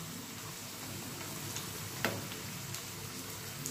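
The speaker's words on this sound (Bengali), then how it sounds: "এই যে মশলাটা দিয়ে ভাজছি" Thin slices of spiny gourd (kakrol) frying with spices on a low flame, a faint, steady sizzle with a few soft ticks and one brief clatter partway through.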